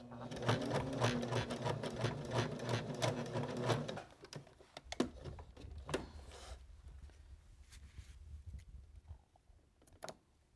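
A sewing machine back stitches a small fabric car freshener, chattering rapidly and loudly for about four seconds before stopping, followed by scattered handling clicks and a faint low hum.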